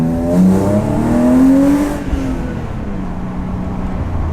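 A catless BMW engine revs hard and accelerates short of full throttle, its pitch climbing steadily before easing off into a rougher, lower idle rumble.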